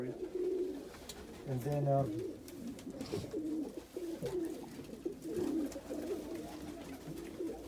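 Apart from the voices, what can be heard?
homing pigeons cooing in a loft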